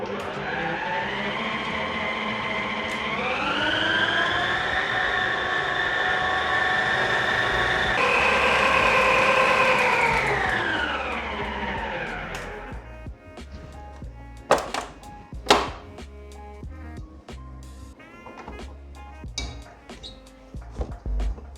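Bean batter for ekuru (white moin moin) is whipped by an electric mixer, which makes a loud, continuous whirring drone that shifts pitch for about twelve seconds and then stops. Scattered knocks and clatters follow.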